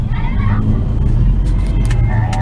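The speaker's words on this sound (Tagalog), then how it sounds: "Grabe traffic dito sa may Marcos Highway." Heavy road traffic on Marcos Highway, a steady loud rumble of car and bus engines passing close by, with no talk over it.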